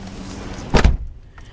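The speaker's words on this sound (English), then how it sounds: "Let me close my door." Door pushed shut indoors, a single short thud in the middle of a quiet room with faint background hum.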